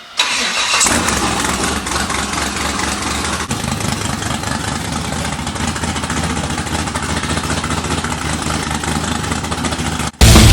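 An off-road race vehicle's engine cranks and fires, then settles into a rough, throbbing idle with a low rumble that holds steady for several seconds before cutting off abruptly at the end.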